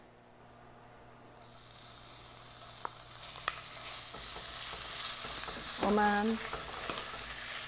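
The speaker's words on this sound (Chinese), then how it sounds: "需要的油只是把它爆香炒到金黄，把它的油逼出来" Pork belly stir-fries in a pan with a little oil, a steady bright sizzle with scraping stirs and a clatter near the end, while a voice speaks briefly over it.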